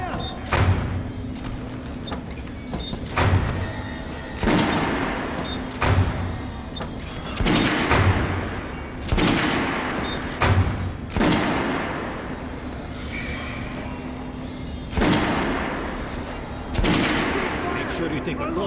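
Heavy, repeated gunshots in Metro Last Light Redux, loud booming reports every second or two over a sustained hum of combat noise.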